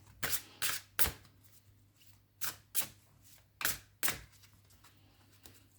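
A deck of oracle cards is shuffled up close in a quiet room: about eight quick, crisp riffling bursts come in uneven clusters, with short pauses between them and no voices.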